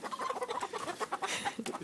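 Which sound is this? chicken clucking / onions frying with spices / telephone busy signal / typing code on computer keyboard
chicken clucking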